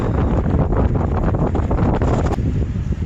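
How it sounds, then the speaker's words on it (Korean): Strong wind buffets the microphone while riding on a backcountry ride, a loud continuous roaring rush that stays steady throughout. "바람 많이 분다."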